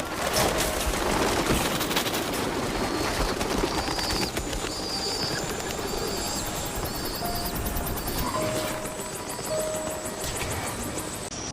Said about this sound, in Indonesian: Mereka membuka serangan burung dara yang akhirnya merusak salah satu helikopter.